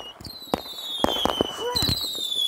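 Fireworks crack and pop around a neighborhood on New Year's Eve for 2024, sharp bangs landing one after another over whistling rockets, with a person talking nearby.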